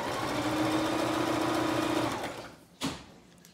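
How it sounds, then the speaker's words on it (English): A sewing machine stitches trim onto clothing in a close, steady whirring run of about two seconds, then slows and stops, followed by a brief rustle. "going to hold it in place and we're going to stitch."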